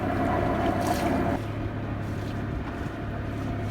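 Boat motoring past the back of Stromboli island, a steady low engine drone with wind and water noise, the pitch and level shifting slightly partway through, no talking.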